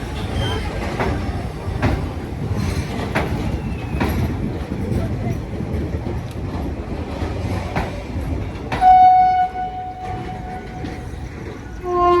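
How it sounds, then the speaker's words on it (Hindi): Darbhanga Daurai special train pulling out of platform 1 at Gorakhpur Junction at night, a low rolling rumble with scattered rail clicks, then a drawn-out tonal horn blast near the end, heard close by. "अपनी दरभंगा दौराई स्पेशल ट्रेन का डिपार्चर हो चुका गोरखपुर जंक्शन के प्लेटफॉर्म 1 से"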